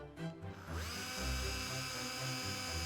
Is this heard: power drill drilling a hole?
yes